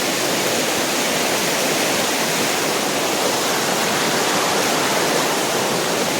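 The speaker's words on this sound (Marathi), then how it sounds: "हे मागून जे पाणी येते ते वरतून डोंगरातून पाणी येत आहे" Mountain runoff rushes beneath a village bridge during heavy rain, a loud, dense, continuous roar of water with no pauses or voices.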